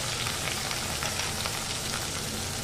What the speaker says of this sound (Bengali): এবার এটাকে আমি কড়াইতে দিয়ে দেব আর ভালো করে এটাকে নুন দিয়ে ভেজে নেব